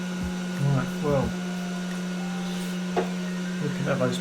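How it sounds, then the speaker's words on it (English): A hot air rework station fan keeps running steadily while the tool cools down after headphone repair work, a constant whirring hum under a person speaking intermittently. "sorry for that noise, it's the hot air still, it's just cooling down"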